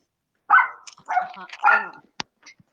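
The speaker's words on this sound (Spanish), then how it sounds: "¿Que a quién le está ladrando el perro?" A dog barks three times in a row, close and fairly loud, with a short yip and quieter whimpering sounds trailing after.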